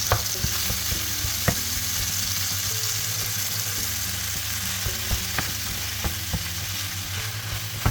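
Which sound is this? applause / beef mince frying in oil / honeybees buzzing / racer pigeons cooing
beef mince frying in oil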